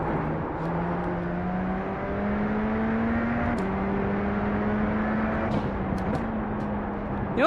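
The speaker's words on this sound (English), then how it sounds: "it feels like Radical got really hard tires. Because I hear them, so they are so loud." Race car in the iRacing sim on a road course, a steady engine drone with stepping pitch as gears shift, plus a constant hissing tire roar underneath, loud and continuous.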